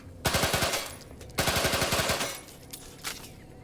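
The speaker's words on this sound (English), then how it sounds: "Machine pistol, eh?" Machine pistol in The Outer Worlds video game, firing two rapid bursts of about eight shots each, loud and close, followed by a few faint single sounds.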